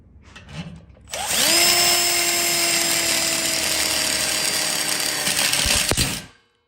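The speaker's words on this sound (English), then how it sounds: "with self-drilling screws, you don't even have to use the hole in the connector plate" A power drill drives a self-drilling screw through steel connector plates of a welded split bar counter kit, one loud sustained whine that rises quickly, holds steady for about five seconds, then winds down.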